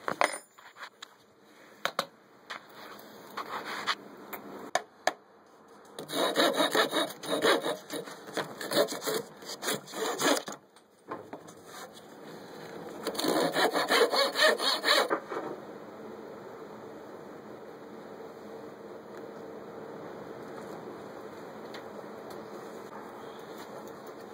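Bursts of sawing on 9mm wooden dowels, rapid back-and-forth strokes in several separate runs, followed by quieter handling noise and a low steady background.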